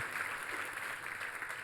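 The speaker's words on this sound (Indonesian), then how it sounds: "Tepuk tangan yang paling meriah buat Tuhan kita." A church congregation applauds enthusiastically during a sermon, a soft, dense, continuous patter of many hands clapping heard from some distance with no speech over it.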